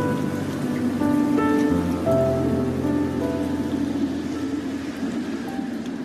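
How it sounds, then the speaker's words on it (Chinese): Steady rain falling at Jinshan, a dense continuous hiss throughout with faint tonal sounds layered over it and no voices. "下雨时随遇而安地倾听雨声"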